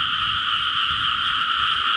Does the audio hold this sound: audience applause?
no